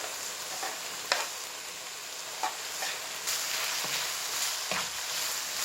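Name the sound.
kofta frying on onions in a pan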